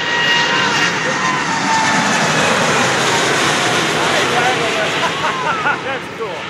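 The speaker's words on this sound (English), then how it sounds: "He's doing a high-speed taxi." A Boeing 787 Dreamliner on a high-speed taxi at Oshkosh 2011, its jet engines producing a loud, steady roar and rushing whine that fades slightly at the end, with voices talking over it.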